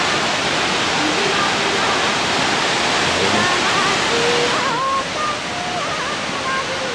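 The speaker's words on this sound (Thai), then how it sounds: "น้ำตกหัวเย็นสวยไหมใกล้ๆด้วยไม่ต้องเดินไกลใกล้ๆด้วย" A waterfall in Nikko, Japan, giving a steady, dense rushing roar of falling water that fills the scene, with faint voices and a few whistly tones drifting over it.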